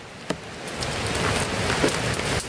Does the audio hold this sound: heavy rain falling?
yes